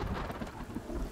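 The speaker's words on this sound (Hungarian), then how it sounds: "Vihar van." Thunderstorm in the video game Sons Of The Forest: a low thunder rumble rolls under a dense, steady wash of heavy rain, loud and close throughout the short stretch.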